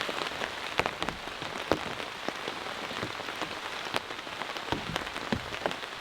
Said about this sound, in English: The rain just slacked off a little bit